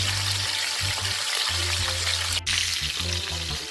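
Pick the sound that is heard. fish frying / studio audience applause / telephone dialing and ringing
fish frying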